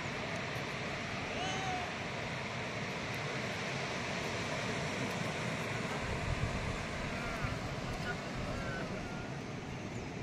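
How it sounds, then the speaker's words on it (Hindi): Sea waves roll in steadily at Dapoli beach in Maharashtra, a continuous broad roar of surf mixed with wind buffeting the microphone. "ये देखो कितने लहरें तेज चल रही है।"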